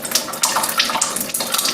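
Acidic water runs from the bottom hose of a Kangen water machine, a steady close splashing stream with no talk.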